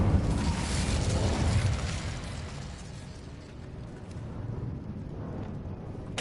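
Incendio fire spell cast in Hogwarts Legacy, a loud whooshing burst of flame at the start that settles into a low rumbling crackle, with a second sharp pop at the very end.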